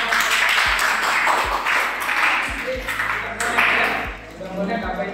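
A teacher talks in a classroom while a few sharp claps and taps sound at irregular intervals, partly under the voice.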